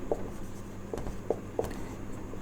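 Writing on a board during a maths lesson: a few short, faint scratching taps of the marker or chalk strokes, spaced irregularly over a quiet room background.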